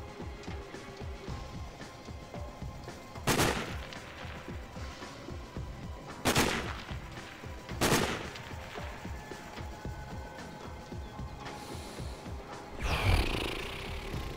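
Gunfire in the video game Sniper: Ghost Warrior: a few loud, well-spaced single shots with booming tails over a low ambient game background, no talking heard.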